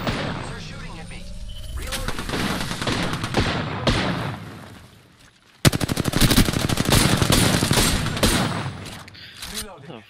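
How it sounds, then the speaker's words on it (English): Rapid automatic gunfire in the battle royale game Apex Legends, loud, dense bursts that dip briefly and then resume hard, with a player's voice talking over the shooting. "They're shooting at me."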